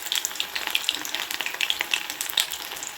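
Baby corn pieces fry crisp in hot oil, giving a close, continuous sizzle full of rapid crackling pops.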